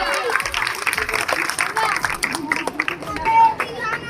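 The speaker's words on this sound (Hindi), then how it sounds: "जोरदार तालियां।" Audience applause at an honoring ceremony in Raipur, loud and close clapping mixed with crowd chatter and voices throughout.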